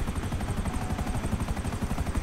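A police helicopter in GTA 5 hovers close overhead with a steady, loud rotor thump and engine roar that fills the moment without pause.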